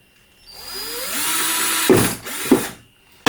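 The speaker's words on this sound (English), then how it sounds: "Go ahead and drill in a hole on the side here." A power drill with a 1/8 inch bit whines steadily, then bites through a plastic tub in two short, harsher bursts before cutting off; close and loud, no voices.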